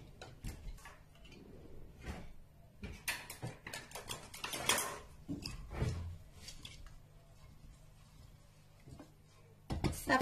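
Harbel porridge stirred in a cooking pot of salted water, with a string of close, irregular scraping and clinking spoon strokes against the pot, some louder bursts mid-way and a final clatter.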